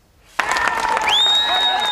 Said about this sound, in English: Loud applause from loyalist supporters greeted the Orangemen as they arrived at the Ardoyne flashpoint.